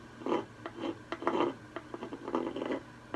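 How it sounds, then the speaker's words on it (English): Dried paint being scraped out of a crevice beside a panel with a hand tool, heard as a series of short, close, rasping strokes in an uneven rhythm with brief pauses between them. "scrape out the paint that's in there"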